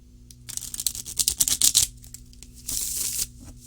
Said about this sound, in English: Now, let's give it a shuffle.